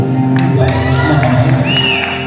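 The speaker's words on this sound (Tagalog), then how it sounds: "Palakpak naman dyan." An audience at a singing showdown at Robinsons cheers and claps in a short, loud burst, with whoops and shouts over the applause and a voice talking through it.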